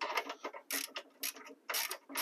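Ratchet wrench tightening the nut on a car battery hold-down strap in a 2003–2011 Honda Element, a series of quick close clicking bursts in short repeated runs with brief pauses.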